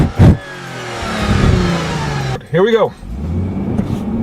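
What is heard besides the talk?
2013 Lexus GS accelerating 0-60 in sport mode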